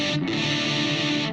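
Electric guitar played dry through a Blackstar St. James 6L6 amp: a single loud, distorted chord rings out and sustains steadily for about a second before tapering off, with no other sound.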